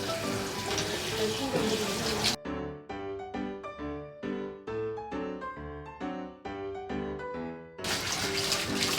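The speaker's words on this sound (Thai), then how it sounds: "ต้องล้างน้ำให้เกลี้ยงๆนะครับพวกสารเคมีพวกนี้" Running water rinses chemical treatment out of hair at a salon wash basin, a steady hiss heard in short bursts at the start and end, with music playing in between.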